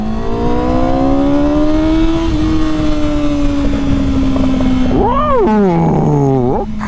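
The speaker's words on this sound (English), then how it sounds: "We got some backfires." A Yamaha R6 sport motorcycle revs hard and close, its engine pitch climbing steadily, then surges through quick blips that finish with sharp popping backfires before the revs drop away.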